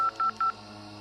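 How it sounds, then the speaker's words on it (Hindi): Three quick touch-tone beeps from a phone keypad being dialed, evenly spaced, clear and close, followed by a low quiet background. "फोन मिलाने लगी,"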